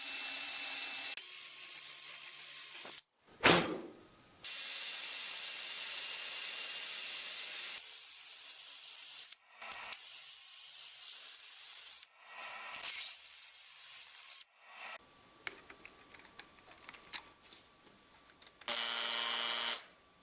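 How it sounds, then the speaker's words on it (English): A homemade wire end-brush driven by a power tool scrubs the end grain of wood in repeated bursts, each a loud, close, hissing rasp separated by short pauses. "we're wire brushing with end grain"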